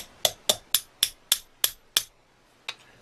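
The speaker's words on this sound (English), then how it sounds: "you just tap it gently with the hammer" Seven sharp, evenly spaced metallic taps of a small hammer on a flintlock's cock, then a pause and one final tap, close and clear.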